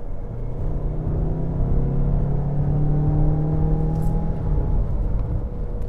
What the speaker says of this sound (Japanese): ディーゼルの音が意外に揃ってて